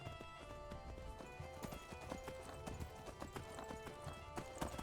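Quick, rhythmic hoofbeats of a galloping horse in the video game Skyrim, moderately faint, repeating steadily throughout with no talking.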